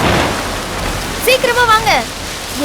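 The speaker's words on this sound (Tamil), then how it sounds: "நல்லா மழை வர போகுதுன்னு நினைக்கிறேன்" Steady rain hissing over everything, with a brief wavering vocal-like tone rising and falling midway.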